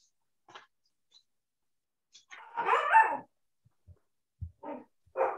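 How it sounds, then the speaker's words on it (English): A dog indoors gives a few short barks and yips, one louder bark in the middle and more toward the end, close by against otherwise quiet surroundings. "I'm not sure what he's barking at now."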